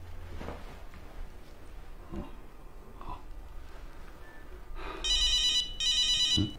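A telephone rings in two loud, bright bursts near the end of an indoor scene, following quiet shuffling and faint movement sounds.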